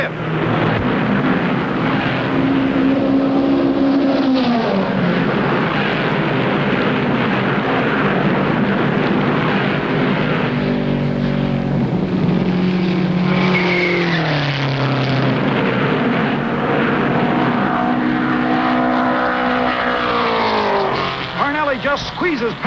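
Vintage 1963 Indianapolis 500 race cars roar loudly and continuously around the oval, their engine pitch sweeping up and down as the cars jostle and pass close by.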